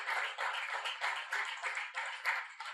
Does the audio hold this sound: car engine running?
no